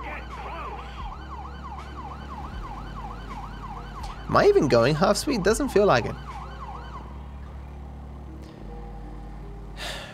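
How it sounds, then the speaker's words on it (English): Wailing vehicle siren in GTA V, a repeating yelp sweeping up and down, steady and moderately loud, interrupted midway by a burst of louder distorted engine or crash noise, with someone talking over it. "Siren sounds terrible, though."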